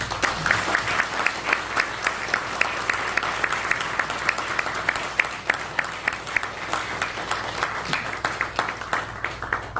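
Church congregation applauding at a Korean pastor's retirement service, sustained clapping from a full room lasting the whole stretch and fading slightly toward the end, with no talk.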